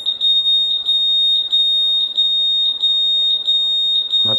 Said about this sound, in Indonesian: Kita coba aktifkan alarm.